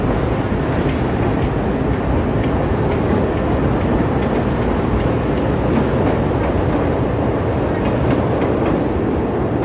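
Chicago elevated Brown Line train moving slowly along the Loop, a steady loud rumble with faint clattering of wheels on track, heard from the street and continuing without a break.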